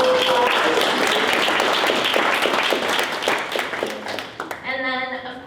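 Sustained audience applause at a reception for graduating community engagement scholars, dense clapping from many hands that thins near the end before a speaking voice comes in.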